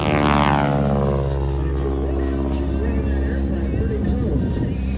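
A propeller aircraft flies an aerobatic routine at the Wings Over Camarillo air show, its engine a steady, loud, harmonic drone that shifts slightly in pitch as it maneuvers, filling the whole stretch.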